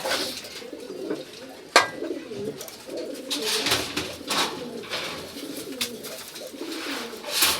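Pigeons coo softly in low, rolling murmurs, with a sharp click and some faint rustling in between; no one speaks.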